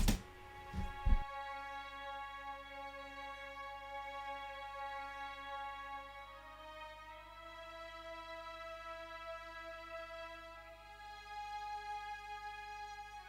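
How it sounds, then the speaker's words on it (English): Minimalist legato strings play a simple sustained melody line after a brief louder attack at the start, smooth held notes continuing quietly on their own without any talk. "I then added a legato string,"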